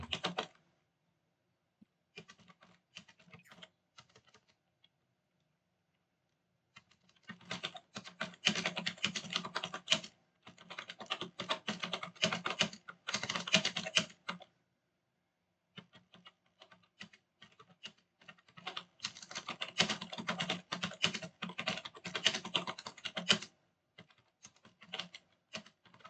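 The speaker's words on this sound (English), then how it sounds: "Let me type." Bursts of typing on a computer keyboard, rapid clattering keystrokes in several runs separated by pauses, fairly close and alone without speech.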